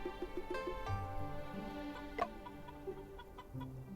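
Chickens cluck in a video game set around the Yangtze River, repeated short clucks over a steady tonal game score, with one sharper accented call midway; no talk.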